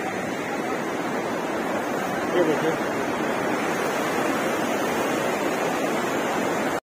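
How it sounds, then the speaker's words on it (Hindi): Hot spring water rushes steadily beside the river at Manikaran in Himachal Pradesh, a dense continuous flowing roar close by, with someone speaking briefly over it. "यहाँ पे पूरा एक तरफ गर्म पानी आ रहा है"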